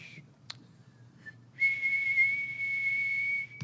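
Audience members whistling a high, steady tone meant to imitate the 2600 Hz telephone line-free signal, with a brief attempt followed by a sustained whistle of about two seconds over low room murmur.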